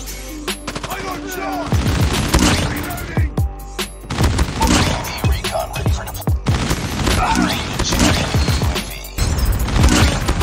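Rapid bursts of Call of Duty Mobile gunfire, with sharp repeated shots and booms clustered through the scene, loud and close, over busy game sound with in-game voices calling out.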